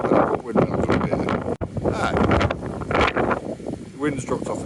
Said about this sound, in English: the wind is savage up here